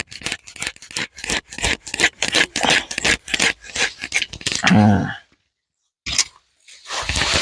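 An old hand saw cuts through a large durian tree branch during pruning, giving close, quick rhythmic rasping strokes for about five seconds. A brief silence follows, then the scraping starts again.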